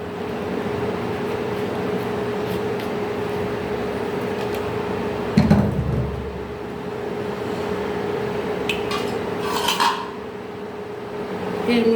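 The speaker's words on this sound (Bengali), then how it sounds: "কড়াইতে আমি তেল দিয়ে দিলাম" Oil goes into a wok for a green banana mash, with a sharp metallic clank near the middle and a lighter clatter later, over a constant low kitchen hum.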